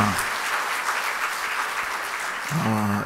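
A church congregation claps together at a Sunday evening worship service, giving a dense, steady round of applause that fills the room, until a voice begins speaking near the end.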